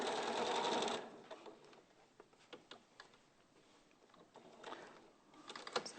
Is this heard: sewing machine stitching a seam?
yes